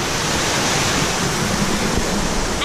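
Loud, steady rush of a waterfall at Springbrook National Park, a close broadband roar that fills the whole moment with no voices heard.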